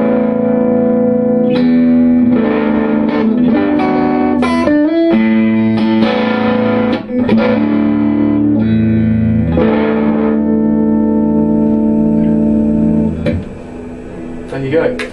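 Clean tone from a Suhr S4 electric guitar played through an Egnater Tweaker amp in a guitar shop, ringing chords and single notes with sustained harmonics and some reverb, loud and close, no talking.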